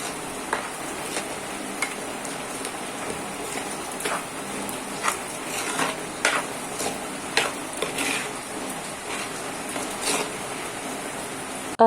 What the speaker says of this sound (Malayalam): നമ്മൾ ഈ ഉള്ളിയെല്ലാം കൂടെ നല്ല വഴറ്റിയെടുക്കണം കേട്ടോ.